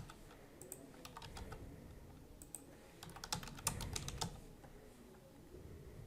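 Clicky typing on a computer keyboard, keys struck in short uneven bursts with brief pauses between them, fairly faint and close with no voices.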